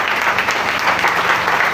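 A church congregation claps loudly and steadily to acclaim God, a dense, continuous round of applause filling the space.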